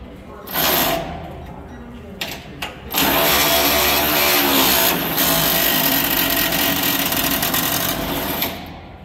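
A Ryobi 18V One+ cordless ratchet strains against a bolt with a lock nut through a bracket, giving short whirring bursts and then a long, loud, steady motor whine, with a voice speaking over it.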